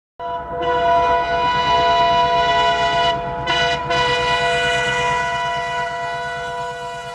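A train on the Howrah to Jagdalpur route sounds a loud, sustained horn close by, with its rumbling wheels underneath; the horn breaks briefly midway and then continues.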